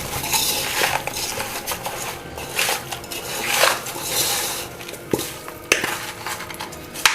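A spoon stirs chilli powder, spices and salt in a pot for a tuna fish curry, giving irregular scraping and clinking strokes against the vessel. The strokes come close and fairly loud, with sharper metallic knocks near the end.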